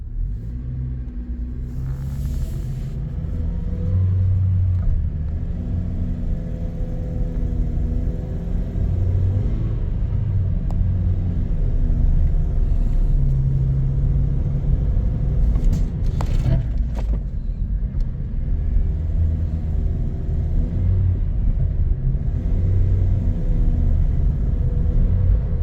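A Toyota car with a fully slipping clutch drives in automatic mode, its engine a loud, steady low rumble that barely changes in pitch, with a brief clunk partway through.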